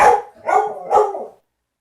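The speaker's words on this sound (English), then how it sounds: "Bark, bark, bark." Three quick, sharp dog barks sound close by, evenly spaced, and are followed by silence.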